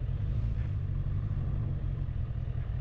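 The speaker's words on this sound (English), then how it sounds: "Moving forward, I'm still revving, I'm in the friction zone." Motorcycle engine revving steadily while the clutch is held in the friction zone and the bike creeps forward, a close, low continuous engine drone with slight fluctuations.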